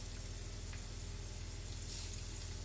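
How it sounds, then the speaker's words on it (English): Blanched cauliflower steaks char in a hot pan, giving a steady, dense sizzle and crackle that holds even and close throughout, with no talking. "take our beautiful blanched cauliflower steaks and we're going to char them in this beautiful pan"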